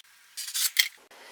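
A quick pass of scissors or a cutter slicing through quilting fabric strips, a short bright swish and snip in a quiet room.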